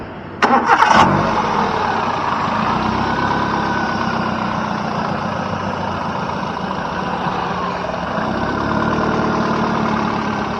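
A Hyundai i10 hatchback engine cranks and catches with a short burst, then settles into a steady, even idle nearby.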